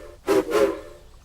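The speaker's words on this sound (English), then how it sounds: "blew his whistle. It sounded like a duck quacking." Two short, nasal toots of a cartoon train's whistle in quick succession, honking like a duck's quack.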